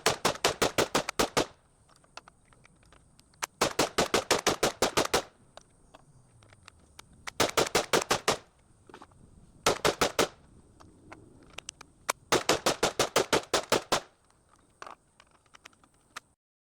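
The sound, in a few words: Chimera .223 rifle firing rounds in torture test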